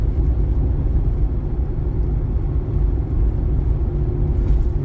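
Car cruising near 50 mph on oversized tires on a summer highway drive, a steady loud low rumble of road and tire noise with a constant engine hum, no voices.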